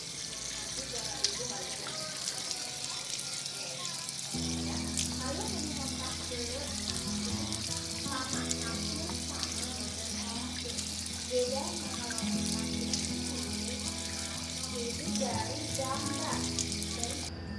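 Tap water runs steadily and splashes during wudu ablution washing, a constant hiss with irregular splashes, while someone talks over it throughout.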